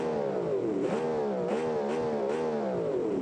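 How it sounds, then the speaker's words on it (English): Engine revs of a straight-four race car in the video game BeamNG rise and fall repeatedly, a smooth synthetic whine with gear-shift dips, loud and continuous with no talking. "my car sounds mega good"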